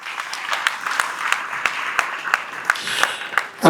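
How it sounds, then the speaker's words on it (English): Audience applause at an assembly at Cardinal Otunga High School: a steady patter of many hands with sharper individual claps standing out, moderately loud and continuous, swelling briefly at the very end. "Can we clap for them, please?"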